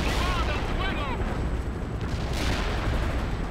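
Artillery in World in Conflict pounds away as a continuous, heavy rumbling barrage of booms and blasts, loud and unbroken throughout.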